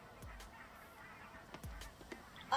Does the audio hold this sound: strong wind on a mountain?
no